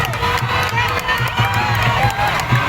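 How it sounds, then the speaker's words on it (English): Crowd cheering and shouting along the route of a dragon boat race at the Peh Cun fair in Tangerang, in steady rain; a dense, continuous roar of many voices with rising whoops and children's shouts. "people are cheering for their teams"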